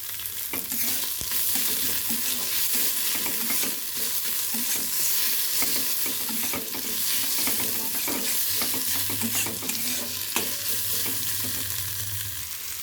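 Cumin paste and tomato sautéing in a pan, a steady close sizzle with frequent scraping and stirring knocks throughout, no talking.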